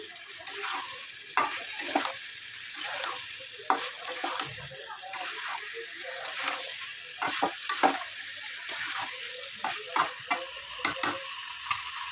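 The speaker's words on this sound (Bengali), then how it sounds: "কষানো মশলার মধ্যে আমি ভেজে রাখা আলু, পটল, চিংড়ি মাছ দিয়ে দিলাম, দিয়ে একবার নাড়িয়ে নিলাম" Fried potato, pointed gourd and prawns stirred into a spiced masala in a pan, with a steady sizzle under repeated close spatula scrapes and knocks, no voices.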